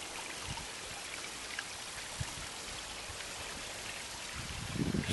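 Water pouring steadily over a split waterfall in a garden by a lake, a continuous broad rushing wash with a slight swell near the end, heard alone.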